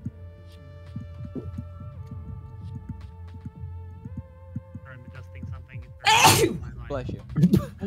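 A single sharp sneeze bursts out near the end, loud and close, following a stretch of quiet humming tones and soft thuds, with people talking just before.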